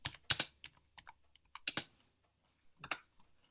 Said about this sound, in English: all you need to type is Pearson